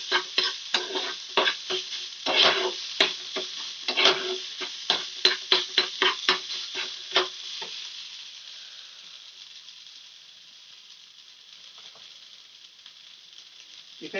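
Spices and Maggi masala mixed in a pan for a street-style snack, heard as a quick run of rhythmic spatula scrapes over a light sizzle, then fading to a faint hiss with only a couple of stray taps.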